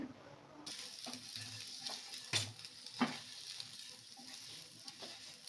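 Byadgi chillies and kasuri methi fry in a pan with a faint, steady sizzle, interrupted by a few soft knocks of a spoon stirring against the pan, close by and quiet.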